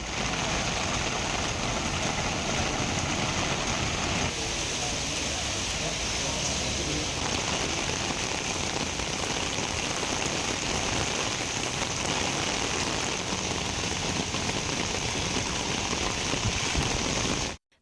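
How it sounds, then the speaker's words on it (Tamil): Heavy rain with strong wind in Tamil Nadu pours steadily in a dense, loud hiss on surfaces, continuing without break, with a faint gusty roar underneath. "பலத்த காற்றுடன் கனமழை பெய்தது."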